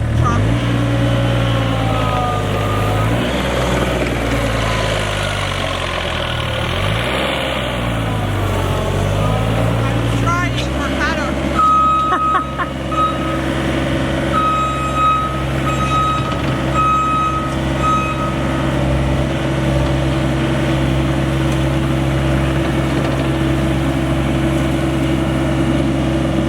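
A Manitou 1050RT Posi Track telehandler's engine rises and falls with throttle, then settles into a steady diesel hum as loud, evenly repeating reversing beeps sound over it.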